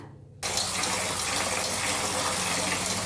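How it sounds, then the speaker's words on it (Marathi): Tap water gushes steadily into a basket or sink while roasted black horse gram is washed; the flow starts abruptly after a brief quiet moment and stays loud and constant. "आता याला स्वच्छ धुवून घेते एकदा"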